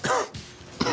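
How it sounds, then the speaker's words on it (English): A person coughs in three rough, hacking bursts after smoking, each one close and loud, separated by short gaps of quieter breathing. "It's just smoking and coughing."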